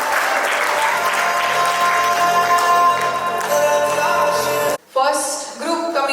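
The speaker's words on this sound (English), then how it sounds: "a big applause again" A crowd claps warmly at a 25th wedding anniversary celebration, with sustained dense applause over faint musical tones. It cuts off briefly near the end, then resumes more thinly.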